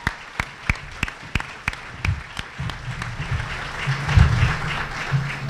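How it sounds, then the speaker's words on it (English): A press conference audience claps, starting with scattered sharp individual claps and building into denser, sustained applause, moderately loud and close, with no talk over it. "Big round of applause"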